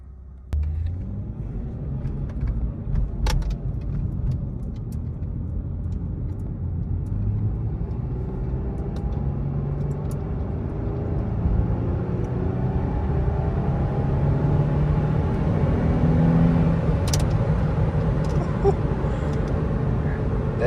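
A new car accelerates in sports mode, its engine rumble and road noise building steadily and staying loud and close from inside the cabin, with faint talk early on.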